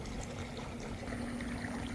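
Water pours steadily over the sides into an above-ground pool skimmer, a continuous close rushing splash with a faint hum beneath it and no voices.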